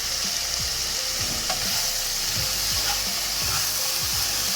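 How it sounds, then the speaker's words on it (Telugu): Tomatoes frying in oil in a pan for vermicelli kichidi, a loud continuous sizzle and crackle with repeated scraping stir strokes, close and alone without talk. "ఇప్పుడు దీంట్లోకి మనం టమాటాని యాడ్ చేస్తాం"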